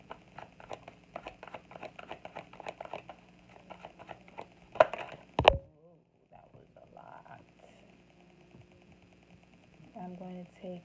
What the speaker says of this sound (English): So I'm going to shuffle 2 more times.